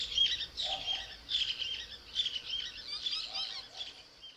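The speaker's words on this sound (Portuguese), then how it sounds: "Papa-lagarta canelado." Call of a papa-lagarta canelado, an insect-eating bird of the cuckoo family Cuculidae: a series of bright, high, raspy chirping phrases repeated in quick succession, fairly close and clear over a quiet background.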